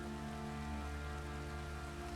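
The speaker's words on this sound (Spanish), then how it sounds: "y está lloviendo" Steady rain falls in The Witcher 3: Wild Hunt, a soft constant patter under a low droning in-game ambience, continuous and unbroken with no voices.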